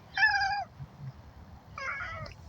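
A cat meows twice, two clear, loud, close calls separated by a short pause, over a low background rumble.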